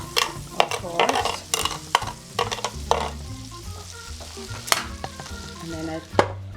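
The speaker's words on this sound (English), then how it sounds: "So I heated up the Norwegian waffle iron. I add a bunch of butter" Butter melting on a hot Norwegian waffle iron gives a close sizzle, broken by sharp clicks and scraping knocks against the metal plates, with no voices.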